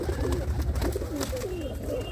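Low, warbling pigeon coos repeat over a constant background rumble, close by and with no talking.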